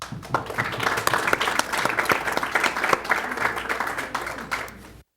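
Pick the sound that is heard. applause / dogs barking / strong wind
applause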